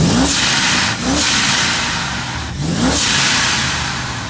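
A loud Lexus RC F engine revs up repeatedly, rising and dropping in pitch in quick bursts before settling into a steady growl, close and dominant.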